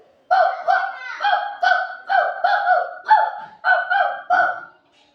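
A voice imitates a dog barking in a mimicry performance. About nine short, evenly spaced woofs come close and clear against a quiet background.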